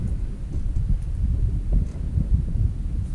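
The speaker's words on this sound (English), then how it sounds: "You notice, of course, the wind's coming up." Wind gusting steadily outdoors at a rifle shooting range, a loud continuous low rumble and buffeting against the microphone with no pauses and no talk.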